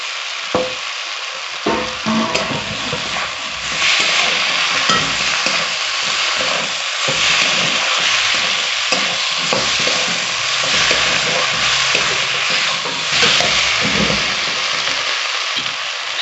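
Fried potatoes are tipped into a hot pan for egg ghugni and stirred, giving a steady loud sizzle with scraping stirs and clatters through the whole stretch after a brief quieter start.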